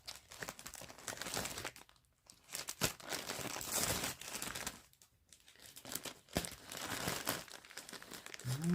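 Crinkly plastic Temu shipping bag being cut open, producing bursts of rustling and crackling with short pauses between them, close by with no talking.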